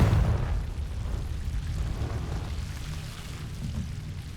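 A Confringo fire-spell explosion in Hogwarts Legacy opens with a low, heavy boom that rolls into a sustained crackling rumble, slowly easing off.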